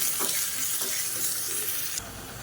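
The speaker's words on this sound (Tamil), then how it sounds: "இந்த வெங்காயத்தை நல்லா வதக்கி வச்சுக்கலாம்" Small onions sautéing in a pan with a little asafoetida, giving a continuous bright sizzle with a few soft stirring scrapes, close and moderately loud, easing slightly near the end.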